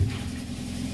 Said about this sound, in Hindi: कंप्रेसर का आवाज़ आप सुन पा रहे होंगे